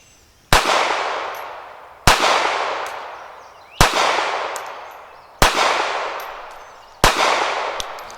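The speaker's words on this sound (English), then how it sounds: "I am going to try to shoot for accuracy here again" Five sharp, loud Kahr P380 pistol shots fired at a target 21 feet away, spaced evenly about a second and a half apart, each cracking and then ringing out in a fading echo.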